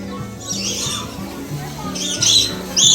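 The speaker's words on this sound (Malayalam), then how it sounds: "ഇവിടെ മുകളില് പ്രാവുകള് അടിയില് വെറൈറ്റി കോഴികള്" Chickens squawking and clucking in short bursts on a farm, with sharp high calls rising near the end, over a steady low hum.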